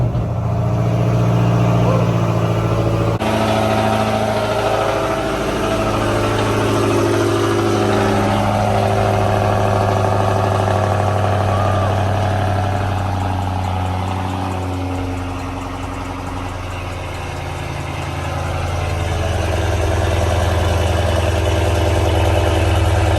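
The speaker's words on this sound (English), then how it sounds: "Let's go ahead and give you guys this 5-day cold start." A car engine cranks and catches after sitting five days cold, then settles into a steady, rumbling idle that runs on loudly, with slight swells in revs.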